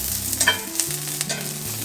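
Onions sizzle steadily in olive or avocado oil in a hot pan while being stirred, with close scraping strokes over a constant frying hiss and no talking.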